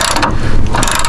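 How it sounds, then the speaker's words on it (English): Socket wrench ratcheting a locking nut off a rear lower control arm on a 2005-2014 Ford Mustang, giving a loud, steady run of close mechanical clicking with no talk. "So I'm gonna take my socket and just wrench that off."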